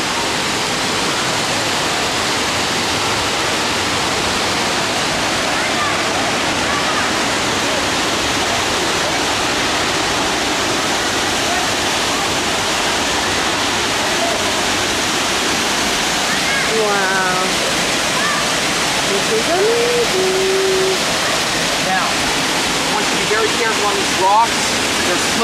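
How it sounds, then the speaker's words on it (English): Nyaca Falls, a double waterfall, roars continuously up close, a loud, steady wash of rushing water, with brief voices faintly audible near the end. "It's a double waterfall, so wait till we get out to the middle"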